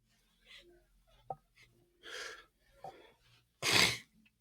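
A single sharp sneeze bursts out near the end after a few quiet breaths and soft sniffs, close and loud.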